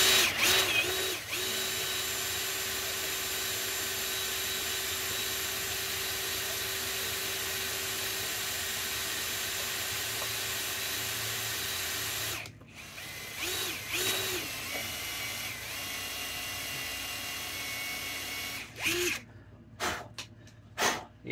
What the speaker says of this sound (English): anytime you're drilling anything stainless or even cutting anything stainless, you want to go slow and press hard